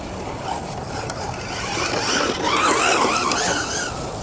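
Hobao Hyper SC 2.0 short course RC truck on 4S power with a 4000 kV motor, its electric drivetrain whining and rising in pitch as it accelerates hard, loud and close with tire noise and no talking.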